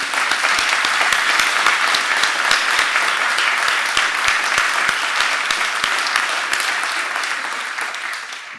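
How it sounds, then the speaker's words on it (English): A closing round of audience applause at the end of a talk in Suffolk, loud and dense from start to finish with distinct individual claps, tapering slightly in the last seconds. "join me in a final round of applause for Shay"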